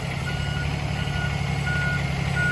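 A truck backing into an alley dock during a 90-degree backing exercise, steady repeating reverse beeps over a constant low diesel idle, with no talk.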